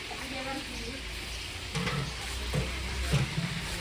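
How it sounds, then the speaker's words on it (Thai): Fish frying in a pan in a home kitchen, a steady low sizzle with occasional stirring clatter at moderate level, voices talking faintly in the background. "อันนี้กำลังทอดปลาจ้า"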